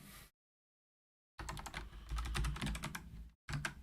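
Keys on a computer keyboard clatter in quick bursts of close, crisp clicks, with a pause of silence and a short final burst of typing.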